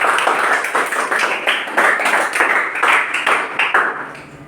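Students in a maths class clap together in a quick, uneven burst of handclaps, close and lively, fading out toward the end.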